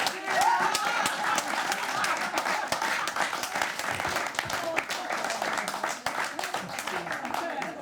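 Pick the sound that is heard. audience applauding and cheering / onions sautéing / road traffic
audience applauding and cheering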